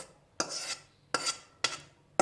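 Whisked egg whites for a yogurt cake batter being scraped and dropped into the bowl in four separate bursts of soft scraping, close and moderately quiet, with no talk.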